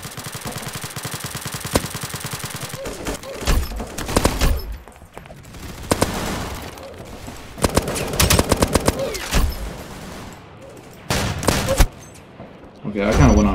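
Rapid gunfire from the Roblox shooter Aimblox comes in repeated loud bursts of automatic fire with short gaps, heavy and close throughout.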